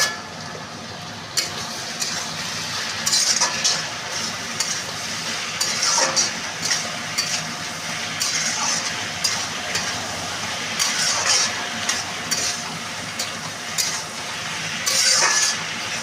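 Chow mein stir-fried in a pan with salt, pepper and green chili: a constant soft sizzle under repeated metallic clinks and scrapes of a spatula stirring the noodles, with sharper clatters at irregular moments.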